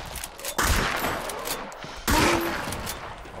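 Gunfire in Hunt: Showdown, two loud, close shots about a second and a half apart, each followed by a booming echoing tail.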